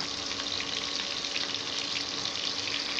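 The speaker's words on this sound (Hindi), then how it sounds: "एक मिनट तक भून लेते हैं" Okra and potatoes fry in a pan as a constant, dense hiss of oil that holds at an even loudness, close by and with no one talking.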